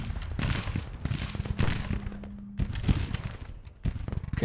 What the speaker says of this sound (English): Cannons, counter battery, just fire at will, please.